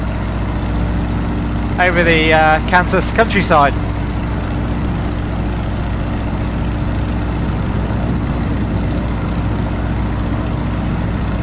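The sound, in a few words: Stearman PT17 biplane engine in Microsoft Flight Simulator video game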